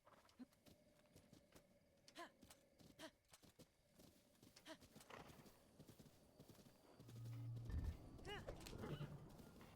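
A horse in Zelda Breath of the Wild clip-clops steadily with rhythmic hoofbeats, plus a whinny and snorts, game sounds growing louder toward the end with a brief low tone.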